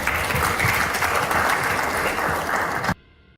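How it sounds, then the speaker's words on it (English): Steady round of applause from a Model United Nations conference audience, full and even for about three seconds before cutting off abruptly into near silence. "Give yourself a round of applause."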